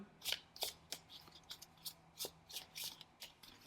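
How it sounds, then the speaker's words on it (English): Tarot cards being shuffled by hand, a quick run of crisp riffling swishes and papery flicks in an uneven rhythm, close and fairly quiet, no talking. "2 cards just fell into my lap, but I'm going to put them back and shuffle some more"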